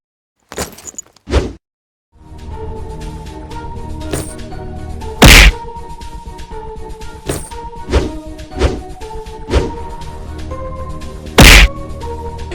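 Kicks and blows landing in an animated Mr Meat horror game fight: a series of loud, sharp thuds and whacks at irregular intervals over a low droning background, close and punchy, with no speech.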